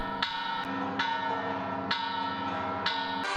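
Carillon bells ring in a steady sequence of clear, resonant strikes about one per second, each tone sustaining and overlapping the next, fairly loud and with no voices.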